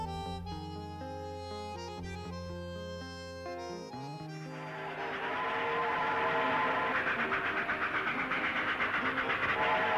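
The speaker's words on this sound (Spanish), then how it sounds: "Este es el antiguo ferrocarril del oeste, es el primer ferrocarril nacional" A train on the old Western Railway near Buenos Aires, Argentina, rumbles past with a long whistle or horn tone fading into a loud, steady rolling clatter of wheels on track.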